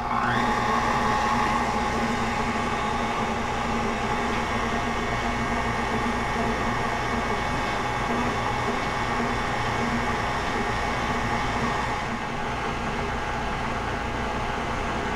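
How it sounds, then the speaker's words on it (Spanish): An electric mixer beats butter with unsweetened cocoa powder for frosting, a steady loud whirring drone that runs unbroken throughout and eases slightly near the end. "Y vamos a batir hasta que se mezclen bien."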